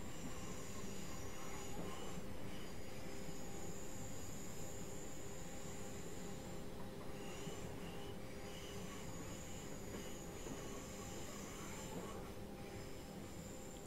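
Class 377 Southern electric train running on the South London Network in Train Simulator 2015, a steady rumbling roll of wheels on rails with high squealing tones drifting in and out, continuous and fairly close throughout.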